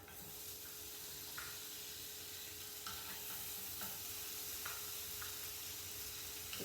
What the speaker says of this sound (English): You can hear the meat is sizzling.